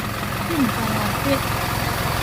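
A vehicle engine runs near a Thai temple's grounds with a steady, even rumble rather than clear rising revs, and brief voice-like tones drift over it.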